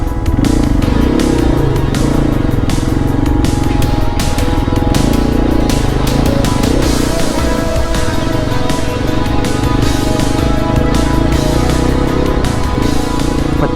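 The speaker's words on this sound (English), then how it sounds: "today Sudi and I decided to attempt a smaller mud crossing instead" Hero Xpulse 200 motorcycle tackling a small mud crossing in rainy northeast India, its engine a loud, continuous drone with steady mechanical clatter and no talk over it.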